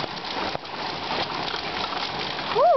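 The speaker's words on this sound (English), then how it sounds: "It's just pouring." Rain pours down in a dense, continuous hiss and patter, steady throughout, with a short rising and falling tone cutting in near the end.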